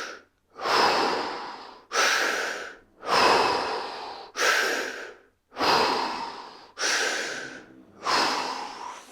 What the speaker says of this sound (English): you're going to breathe in.